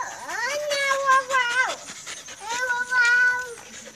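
A small female dog pants in quick rhythmic breaths and lets out rising, whining whimpers in two bursts, close up, with people talking nearby.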